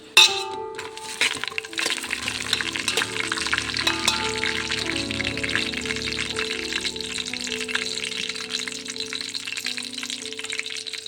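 Whole spices frying in a mix of oil and ghee, a loud dense sizzle after a sharp clink at the start, with steady crackling and faint stirring throughout, no talking.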